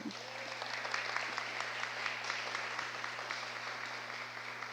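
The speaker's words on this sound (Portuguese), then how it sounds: "Vamos aplaudir ao Senhor na vida do nosso apóstolo?" A church congregation applauds during a Bible class session, with moderately faint clapping spread evenly throughout over a constant low electrical hum.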